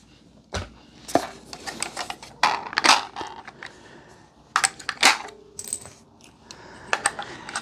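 Remaining rounds being pressed into a Magpul magazine, giving a close run of irregular sharp metallic clicks and snaps with short pauses between them.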